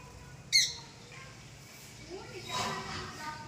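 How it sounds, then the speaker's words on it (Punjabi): A single short, sharp lovebird squawk near the start, fairly faint, followed by quiet background noise and low voices. "ਆਪਣੀਆਂ ਚਿੜੀਆਂ ਇਹ ਲਵ ਬਰਡ"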